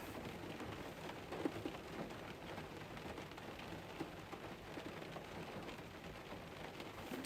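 Steady rain falls on a mountainside in a continuous, dense hiss with scattered heavier drop impacts, fairly close and without talk.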